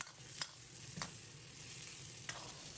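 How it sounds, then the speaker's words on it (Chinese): Potato cubes and luncheon meat frying in a pan over medium heat, a soft, continuous sizzle broken by a few sharp clicks of stirring, with no voices. "放入准备好的午餐肉，继续开中火煎1、2分钟"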